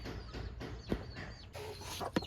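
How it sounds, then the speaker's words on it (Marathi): Chickens cluck close by in a village farmyard, a few short irregular calls over steady background noise, with a sharp knock near the end. "आणि हे बघ कोंबडी पण आले इकडे"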